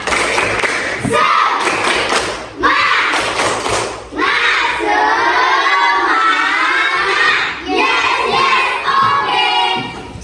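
A class of children claps in rhythmic bursts and shouts an Indonesian clapping chant together, loud and close, with short pauses between rounds.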